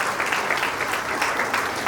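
An audience applauds to welcome an honoree at a museum inauguration, with dense steady clapping from a crowd that stays loud and even throughout.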